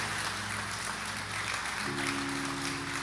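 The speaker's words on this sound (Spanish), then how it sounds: "Dale el aplauso fuerte al Señor." Church congregation applauding strongly during a Spanish-language sermon, a dense continuous wash of clapping throughout with a sustained organ or keyboard chord underneath.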